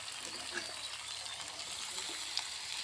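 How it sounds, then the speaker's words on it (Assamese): Duck meat fries in a pan with a soft, steady sizzling hiss, faint and continuous, with a couple of small pops. "এয়া মাংসখিনি ভাজি হৈ গ'ল।"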